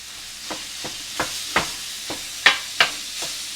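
A metal spatula chops burger meat on a hot griddle for a chopped cheese sandwich, giving about eight sharp, irregular taps over a soft continuous sizzle.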